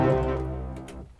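A violin string heavily processed through Bit Crusher and Sound Toys Decapitator distortion gives a single gritty, buzzy sustained tone. It starts loud and decays over about a second, with a rough, crackly texture and no talk.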